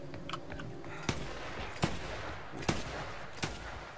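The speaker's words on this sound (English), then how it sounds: "Gunfire." Gunfire in the Killer Klowns From Outer Space video game: four sharp shots spaced about a second apart, distinct and fairly close, over a dense rumbling game backdrop.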